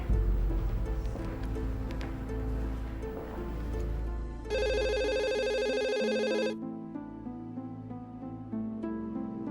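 A telephone rings with a bright electronic trill for about two seconds over background music, then stops.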